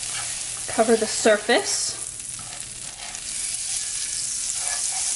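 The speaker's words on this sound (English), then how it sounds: "So I've got a little bit of butter here. You could use olive oil. And that's gonna go right into the pan." Butter sizzles in a pan on medium-high heat for homemade Indian roti, a steady broadband hiss that runs throughout, briefly overlaid by a few short spoken words near the start.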